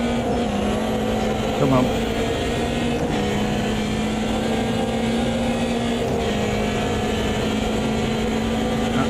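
Engine of a short wheelbase BMW race car in the Automobilista 2 racing game, a steady droning tone with shifting pitch under heavy braking, a brief bump in the middle, with a voice speaking briefly.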